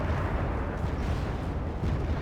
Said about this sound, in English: ML60s is putting down the fire support.